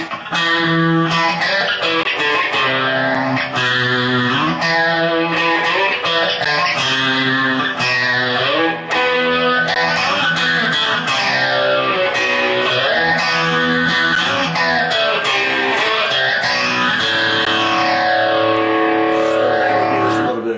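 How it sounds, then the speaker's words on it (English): Loud, fuzzy distorted electric guitar with a phaser effect plays sustained chords and melody continuously, its tone thick and gritty with a swirling sound. "With that we threw on what we call distortion, and that gives it that fuzzy sound."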